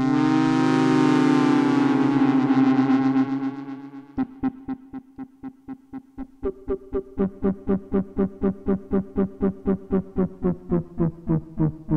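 A sustained synth tone from an Axoloti synthesizer with chorus-like shimmer fades, then becomes a rapid train of rhythmic repeating delay echoes, pulsing steadily and loudly to the end.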